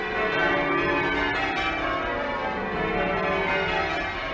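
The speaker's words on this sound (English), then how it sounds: "when they walk down the streets and they hear the bells ringing" The tower bells of Birmingham Cathedral ring continuously in a dense, overlapping peal, loud and resonant, with many tones sounding together and no voices.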